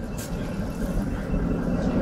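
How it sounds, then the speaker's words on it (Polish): A tram arrives with a steady, loud low rumble of wheels and motor that grows slightly toward the end, heard nearby. "tramwaj się pokazał"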